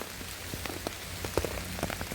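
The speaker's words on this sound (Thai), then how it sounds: "อุ้ยฝนตกพี่น้องจ้า" Rain falling on a forest during mushroom picking, a steady soft patter with scattered sharper drops landing nearby on leaves and surfaces.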